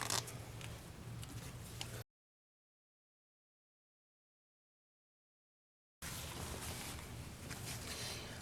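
A zipper slider is pulled along a zipper on a handmade divided toiletry bag, giving raspy scraping bursts at the start and again at the end, with silence between.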